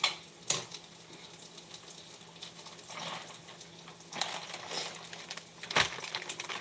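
An egg sizzles faintly in a pan, a soft steady crackle broken by a few sharper scrapes and clinks of a spatula pushing it aside.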